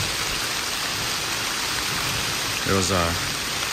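Steady rain hisses throughout, dense and even, in southeastern Minnesota woods, while a voice briefly speaks near the end.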